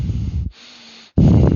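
Loud, heavy breaths rush straight into a close headset microphone, a long harsh exhale, a brief quieter pause, then another forceful breath, with no talking.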